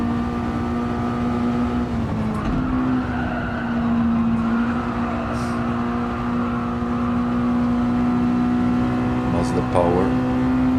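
A Mazda race car in Gran Turismo 7 holds a loud, steady engine drone with tire squeal and skidding across the whole stretch, with a gear shift partway through.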